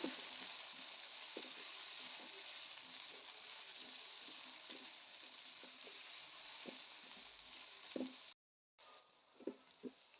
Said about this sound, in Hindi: फ्राई करेंगे प्याज को भी।